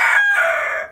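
A chicken from a farm flock gives one loud, close call that rises and then trails off in under a second, with no other sounds around it.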